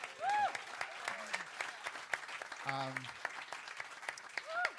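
Scattered audience applause at a live jazz quintet show, honoring the bandleader's absent parents, with sparse claps and a voice or two talking over them.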